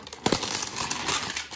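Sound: cutting open and pulling off airsoft gun packaging

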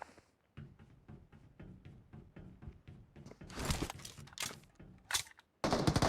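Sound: gunfire in a shooter video game

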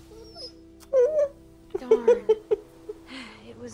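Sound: dog whimpering in The Walking Dead video game

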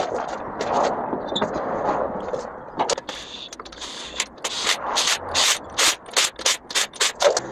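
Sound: putting a wheel back on a Dodge Avenger

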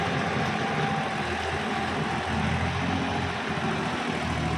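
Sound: small three-cylinder tractor engine running

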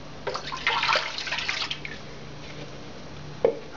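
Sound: milk being poured into a large bowl for pizza dough

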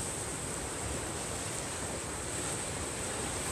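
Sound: ocean waves breaking on the beach

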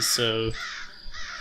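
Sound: crows cawing in video game Die Young

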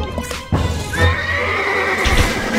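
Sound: horse neighing in video game

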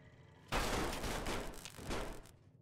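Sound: weapons firing in a video game

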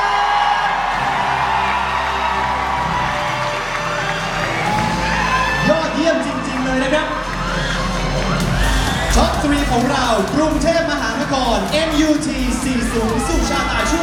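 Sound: audience applause and cheering for top three contestants

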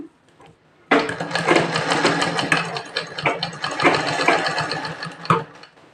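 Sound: sewing machine stitching a prince-cut blouse

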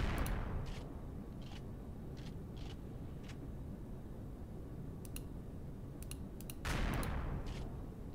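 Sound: orbital bombardment rounds hitting a structure, video game

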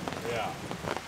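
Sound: heavy rain from a rainstorm

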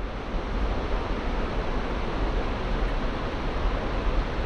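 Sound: large waterfall roaring

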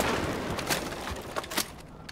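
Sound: Judge shotgun firing in a video game

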